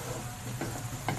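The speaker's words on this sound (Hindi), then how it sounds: "प्याज फ्राई करेंगे। फ्राई करने के बाद अच्छा सा गोल्डन हो जाएगा।" Onions frying in oil for aloo methi give a steady close hiss and sizzle, broken by a couple of brief stirring scrapes.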